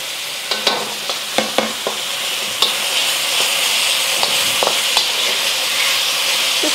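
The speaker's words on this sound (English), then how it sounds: "Just stir fry for another 30 seconds or so until you smell the garlic." Garlic and beef stir-fry for fried noodles, with a steady close sizzle broken by several sharp scraping and clattering taps of a utensil against the pan. There is no speech.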